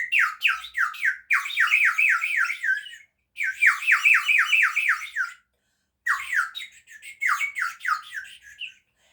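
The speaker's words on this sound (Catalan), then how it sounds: "El reclam dels ocells." A bird-call lure whistle sounds in three bursts of rapid, repeated chirping trills that rise and fall, close and fairly loud, with short silent gaps between them.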